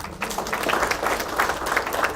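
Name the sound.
audience clapping at a product launch event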